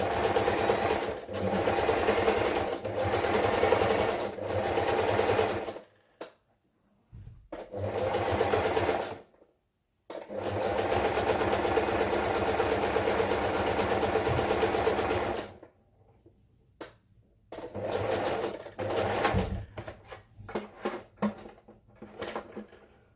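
A sewing machine runs zigzag stitches in several long bursts separated by short pauses, ending in quicker stop-start runs, loud and close with no talk.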